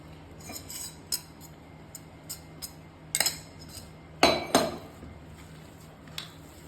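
A metal spoon clinks and taps against a bowl while mashed potatoes are worked together with bread crumbs, salt and pepper, sporadic close scrapes with a few sharper knocks, in a quiet kitchen.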